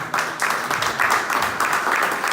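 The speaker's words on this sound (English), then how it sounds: "They've had a few drinks, so give them a clap." A crowd at a Dublin nightclub book launch applauds steadily, a moderately loud, continuous wash of hand clapping with faint voices underneath.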